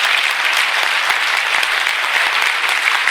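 A seminar audience claps together in a sustained, even burst, many hands close and loud, filling the room without pause and with no voices on top.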